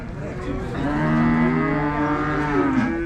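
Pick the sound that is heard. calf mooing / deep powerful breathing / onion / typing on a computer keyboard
calf mooing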